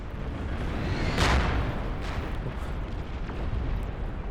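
Rocket explosions in a large battle in the strategy game Beyond All Reason: a dense, loud rumbling barrage with a stronger boom about a second in and further blasts over continuous roaring noise.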